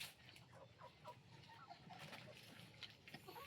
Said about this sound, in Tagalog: Ang bait yung mga manok nyo dito guys ah.